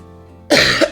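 A streamer lets out a sharp, close cough after a quiet half-second, followed by two shorter coughing bursts in quick succession.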